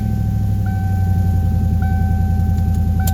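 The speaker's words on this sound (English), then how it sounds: "Exhaust leak." A car engine idles steadily with an exhaust leak, a constant low rumble and drone carrying a faint rhythmic ticking pulse throughout, loud and close with no talking.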